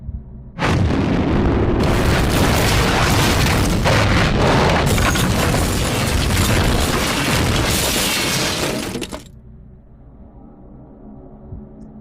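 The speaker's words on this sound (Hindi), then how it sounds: "जोरों का ब्लास्ट हुआ और पूरा हॉस्पिटल एक खंडर में तब्दील हो गया।" A huge blast sound effect as a hospital is reduced to ruins in a Hindi army horror story: an abrupt, very loud roaring explosion that sustains for about eight seconds, then cuts off, leaving faint low rumble.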